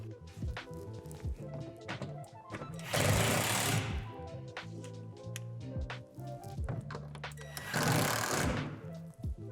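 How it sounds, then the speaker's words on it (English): A power driver sinks screws into the roof truss and gable of a Lifetime 15 by 8 foot outdoor storage shed, giving two loud whirring bursts between softer knocks and handling noises. "Now add the 2 remaining screws into the truss and gable."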